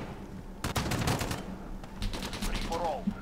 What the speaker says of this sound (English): I'm gonna try this one here, the Odin assault rifle.